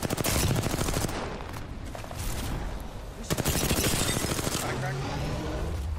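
Heavy incoming gunfire in an Apex Legends match, rapid automatic bursts cracking close and loud for most of the stretch, with a player talking over the shooting.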